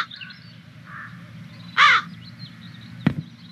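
Crows give a few harsh caws, one loud call in the middle and sharper bursts near the end, over a low background hum.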